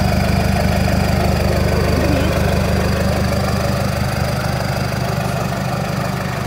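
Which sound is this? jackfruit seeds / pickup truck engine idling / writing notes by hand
pickup truck engine idling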